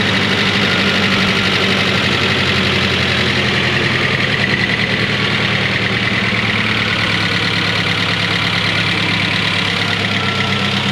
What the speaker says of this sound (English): Sounds like it's running a lot smoother.